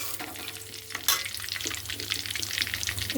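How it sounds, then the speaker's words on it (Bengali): Whole cumin seeds stirred in hot oil in a pan for a paneer dish, a bright, continuous crackling sizzle close by, with a sharp burst as the seeds hit the oil and soft stirring scrapes. "গোটা জিরে দিলাম, জিরে দিয়ে একটুখানি নেড়ে দিলাম।"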